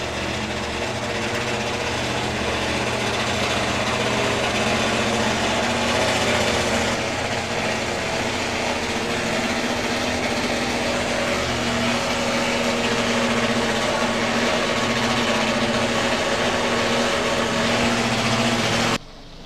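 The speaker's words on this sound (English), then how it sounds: "these are more traditional Top Fuel bikes, 4 cylinders, supercharger, kicking out somewhere in the region of a couple of thousand horsepower" Supercharged four-cylinder Top Fuel drag racing motorcycles at a drag strip produce a continuous loud engine roar with a steady droning tone, holding at full volume for nearly twenty seconds before dropping off.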